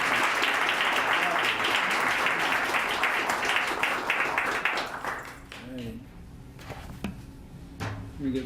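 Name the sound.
audience applause welcoming a poet to a reading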